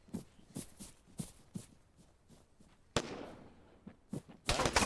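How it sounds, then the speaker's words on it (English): Gunfire in the military video game Arma during urban combat between NATO and PLA forces: a few sharp cracks and thumps with rattling footsteps between them, and a dense, loud burst of shots near the end. "Shots northwest across the street."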